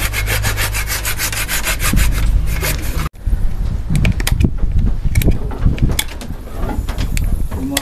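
Goat or cow horns being cut and filed by a professional horn trimmer, with a loud, close, rhythmic rasping and scraping that pauses briefly, then resumes in uneven strokes, while birds chirp faintly in the background.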